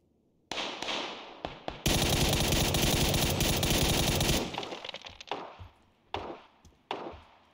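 Automatic gunfire from the video game PUBG: a sharp single shot, a long loud sustained burst of rapid fire, then scattered separate shots and echoing reports trailing off.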